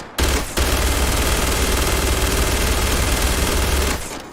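Sustained automatic gunfire in the space game Starfield, a loud, rapid, unbroken rattle of shots lasting about four seconds after a brief stutter at the start, then cutting off.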